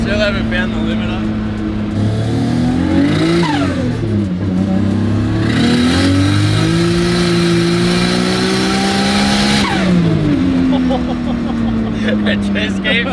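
An RB20-powered AU Ford Falcon ute revs hard and climbs through its range in long, loud sweeps with gear changes, stays close and dominant throughout, and occasional voices can be heard over the engine.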